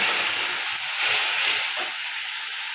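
Spice paste sizzling and hissing steadily in a pan right after water is added, cooking a spicy fish curry with spring onion and tomato; a continuous loud broad hiss that swells slightly mid-way, with no talk.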